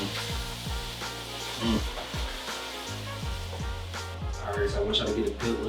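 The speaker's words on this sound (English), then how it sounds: "I'm gonna deglaze the pot with some diced tomato juice" Diced tomato juice sizzles as it deglazes a New Orleans seafood gumbo pot, with a soft, steady hiss under a voice talking throughout.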